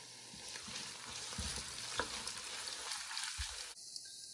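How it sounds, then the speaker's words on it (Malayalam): Mustard seeds, fenugreek, crushed garlic and ginger sizzle steadily in hot oil, a continuous close frying hiss with small pops and crackles throughout. "കടുക് പൊട്ടി വരുമ്പോഴത്തേക്ക് ഉലുവ ചേർക്കാം."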